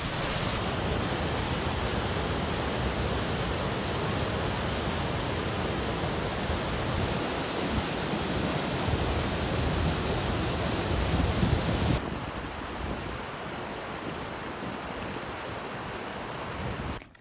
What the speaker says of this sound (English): Gonna start day 5 off with another waterfall.